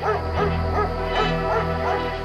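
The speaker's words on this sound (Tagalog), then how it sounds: "nagising siya sa walang tigil na mga tahol" A dog barks repeatedly at night, yelping in a quick series of about five rhythmic barks over a steady background hum.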